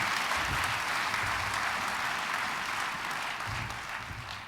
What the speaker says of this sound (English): Let's welcome all of these folks with a warm round of applause.